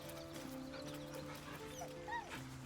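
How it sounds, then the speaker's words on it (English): A dog whimpers and yips while being petted in the video game Baldur's Gate 3, with soft tonal whines over a steady game background. "Of course I'm petting the dog."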